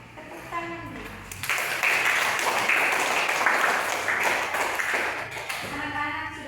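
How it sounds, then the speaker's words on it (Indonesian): Children in a classroom break into applause after a math lesson on adding and subtracting integers; a teacher speaks briefly before a burst of brisk, bright clapping that carries on for several seconds, then talk resumes. "Tepuk tangan."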